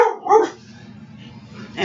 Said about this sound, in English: And the senile dog,